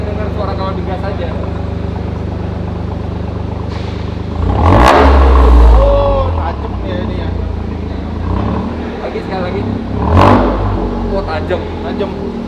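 A Toyota GR Yaris fitted with a Remus exhaust idles with a low rumble, then gets two sharp blips of the throttle that rise and fall quickly, loud and close, while people talk nearby.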